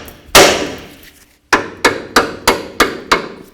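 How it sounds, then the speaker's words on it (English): Steel hammer striking the steering knuckle of a 2007-2017 Ford Expedition to break the tie rod free: one heavy metallic blow, a pause, then six quick evenly spaced hits, close and ringing. "we're going to use a hammer and we're going to hit right on the knuckle right here to try to break this free"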